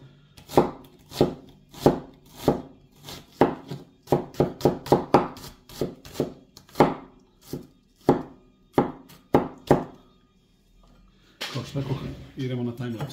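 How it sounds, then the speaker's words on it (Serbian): An onion is chopped coarsely with a knife on a board, with about fifteen firm, evenly spaced thuds at a steady rhythm, followed by a burst of rustling noise at the end. "Uzimamo luk i seckamo ga solidno krupno."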